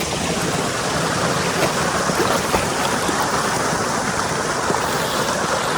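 Waterfalls in a dense jungle near a tribal village pour in a continuous broadband rush of water, steady and loud throughout with no pauses or voices.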